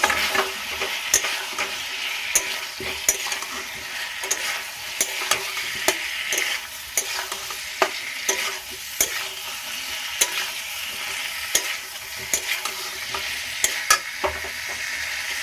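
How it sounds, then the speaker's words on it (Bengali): Fried potatoes and pointed gourd stirred together in sizzling masala in a pan: a constant hiss with regular sharp spatula scrapes and taps every second or so, close and loud, no speech. "পটল আর আলু দিয়ে একসঙ্গে আবারও নাড়াচাড়া দিয়ে নেব।"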